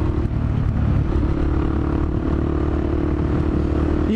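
A Yamaha Fazer 250 motorcycle idles close by with its exhaust baffle fallen out, a loud, raw, rattly exhaust drone, steady and unmuffled throughout.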